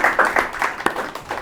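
Audience applause for a guest on a youth-oriented TV talk show, heard as a short burst of dense, steady clapping at moderate loudness.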